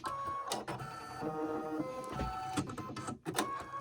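A home embroidery machine restitches a Kreative Kiwi daffodil coaster design, giving a continuous close mechanical whirring and rattling with quick needle clatter throughout.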